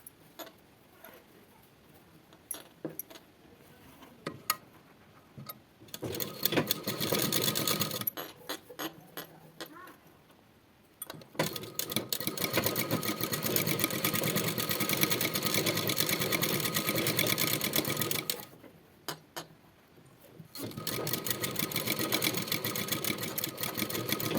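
A sewing machine stitches the front piece of a blouse during neck piping work, running in several long loud bursts separated by short quiet pauses, with a faint ticking of the mechanism between runs.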